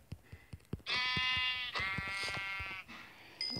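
A long, wavering sheep bleat from a video game sounds clearly, followed by a second bleat, with a few soft clicks before and after.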